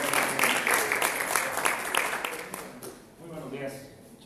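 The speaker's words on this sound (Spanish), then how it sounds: "Por favor, denles un aplauso" Audience applause welcoming a speaker named Eduardo at a business talk on franchise dispute prevention, a dense burst of clapping that thins and fades toward the end.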